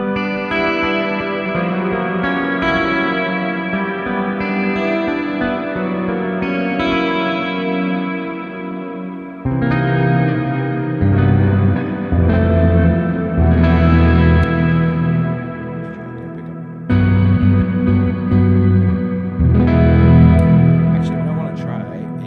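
An electric guitar plays sustained chords through a Quad Cortex Mini with a 4x12 Brit cabinet miked by a ribbon and a 57, adding vintage chorus, tape delay and hall reverb. The tone is loud, dense and continuous, with shimmering repeats.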